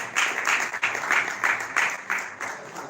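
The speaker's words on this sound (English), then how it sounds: "Can you please give him a round of applause?" An audience at a movie release watch party applauds in a close, lively burst, with individual claps landing in a loose rhythm of regular pulses throughout.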